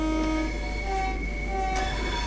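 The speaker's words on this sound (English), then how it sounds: "here's the horn." The horn of a Class 465 electric multiple unit in the Train Sim World railway simulator sounds as sustained, layered tones over a constant rumble, holding steady with slight shifts in pitch.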